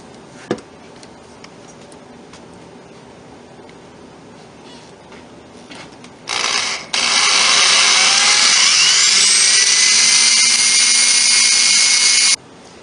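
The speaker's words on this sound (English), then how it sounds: "The hole I'm going to be drilling is 3/16 of an inch" A power drill bores a 3/16 inch hole into a wooden board for a small storage cabinet, with a short whir, then a loud steady high-pitched drilling run of several seconds, after a sharp tap and quiet handling.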